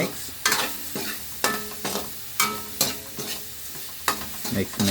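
A mung bean and pork dish stirred in a cooking pot, with regular rhythmic scraping strokes of a spoon against the metal, roughly two per second, over a low sizzle, close and fairly loud.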